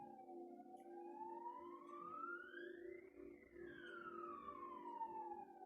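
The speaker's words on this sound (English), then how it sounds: "that siren is the Coast Guard" A single Coast Guard siren slowly sweeps up and down in pitch, heard at a distance over a low steady hum.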